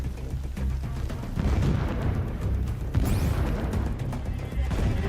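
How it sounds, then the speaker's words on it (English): Explosions and battle noise in the Horizon Zero Dawn Remastered game, a dense continuous clatter of blasts and impacts with a sharp burst about midway, loud and busy throughout. "You get explosion sounds no matter what."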